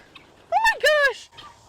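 Turkeys on a farm near guinea fowl give two loud, close gobbling calls in quick succession, then a faint trailing call.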